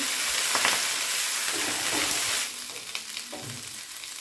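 Chennangi leaves fry in a pan while being stirred steadily, a continuous close sizzle with scraping strokes that grow quieter midway as the leaves crisp.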